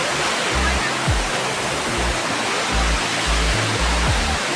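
A strong jet of water rushes steadily and loudly at a vehicle washing place, a constant broad hiss with voices talking underneath.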